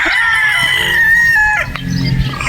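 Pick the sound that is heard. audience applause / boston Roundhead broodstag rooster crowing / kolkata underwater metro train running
boston Roundhead broodstag rooster crowing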